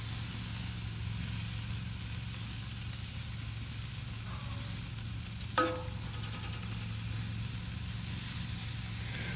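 Pork tenderloin coated in JB's grilling sauce sizzles on an Old Smokey grill, a soft steady crackling hiss under a low hum, broken once by a brief clink.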